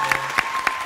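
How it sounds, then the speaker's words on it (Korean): A brief burst of audience applause at the KBS Drama Awards ceremony, heard as three sharp clap pulses over a steady tonal hum in the hall. "박수 한번 주세요"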